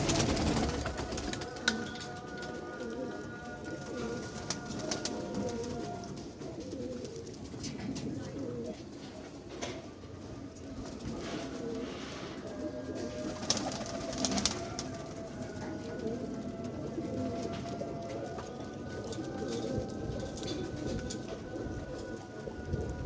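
Rampuri pigeons coo repeatedly in soft, rhythmic calls, fairly quiet and near, over faint background noise.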